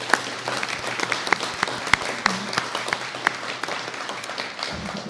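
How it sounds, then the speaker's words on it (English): An audience applauds honorees and their families at a 2025 American Legion cording ceremony, with steady, dense clapping and scattered sharp individual claps that carry on for several seconds. "Let's give one more round of applause for all of our honorees and their families."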